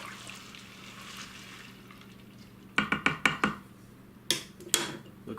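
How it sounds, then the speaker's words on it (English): Dry beans being stirred in water in an Instant Pot, a quiet stretch giving way to a quick cluster of sharp clacks and splashes, then two more clatters, close and distinct. "So I'm just going to go ahead and give this a quick stir."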